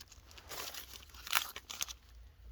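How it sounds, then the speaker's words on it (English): Plastic bag crinkling and rustling inside a comic book box, a series of close, irregular crackles with a sharper burst of crunching near the middle before settling into softer rustles. "I stuffed it with some plastic bag in there"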